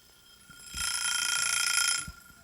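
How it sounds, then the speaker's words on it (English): A kitchen egg timer rings in one continuous, bright metallic burst lasting just over a second, fairly loud against a quiet room, with no talking over it. "you're going to hear this lovely egg timer, which will sound like."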